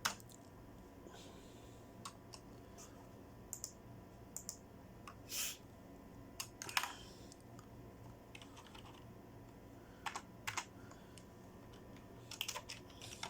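Soft, irregular clicks of typing on a computer keyboard in a word-processing program, quiet and close, with short bursts of keystrokes and pauses between them and no voices.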